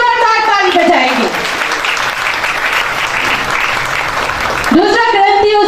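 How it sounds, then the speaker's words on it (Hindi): A congregation at a memorial service breaks into loud, sustained applause, with a voice speaking just before the clapping and again as it fades. "खुदावंद के जलाल के लिए जोरदार ताली बजाएंगे।"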